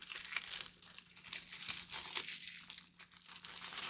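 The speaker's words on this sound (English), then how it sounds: "Cellophane wants to stay stuck to it." Cellophane wrap crinkles and crackles in busy, irregular bursts as it is peeled off a 4K Ultra HD case of the 1982 film Creepshow, close and continuous with no talking.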